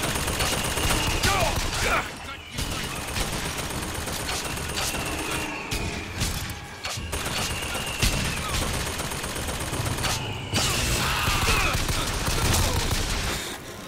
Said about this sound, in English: Those flying machine guns are so legit.